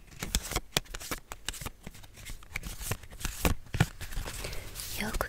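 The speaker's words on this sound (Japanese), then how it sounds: "ではカードを切っていきますね。" Tarot cards being shuffled in a quiet ASMR fortune-telling session, a close run of soft riffling, snapping and crinkling card sounds with a few sharper flicks, with a voice speaking softly at times.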